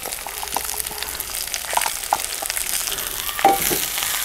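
Chopped onions with ginger and garlic sautéing in a pan, giving a steady soft sizzle with occasional light scrapes and stirring knocks.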